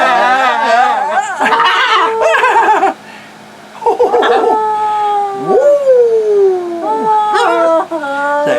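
Pet macaw mimicking a dog's howl, several drawn-out wavering howls and whimpers delivered close and fairly loud, with a person talking and laughing between them.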